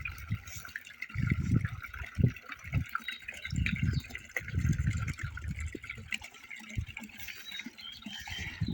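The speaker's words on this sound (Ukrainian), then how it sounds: "Воду наповнюємо, тому що поливаємо кожен день із ставочка одну воду виливаємо, другу напускаємо." Water runs into a small backyard garden pond, a soft steady trickle and splash at a distance, with intermittent low thumps and faint background sounds throughout.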